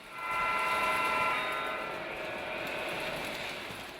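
A Lionel model train running over and under itself on a two-level layout, giving a steady whirring hum with a metallic ringing whine that swells, then eases slightly as it carries on, close and continuous.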